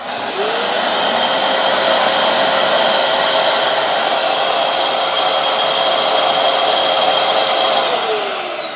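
A shop vac and a bandsaw run together on a power take-off switch, a loud steady motor whine that holds constant for several seconds before winding down at the end, with no talking.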